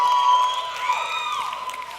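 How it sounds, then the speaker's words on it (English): An audience cheers and whoops at a comedy show, a bright crowd roar with a few voices rising above it, brief and fairly loud. "it's so funny that you're cheering"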